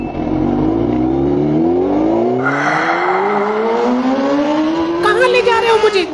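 A Honda motorbike revs up and pulls away, its engine pitch climbing steadily in loud, close sweeps as it accelerates, with a voice talking over it.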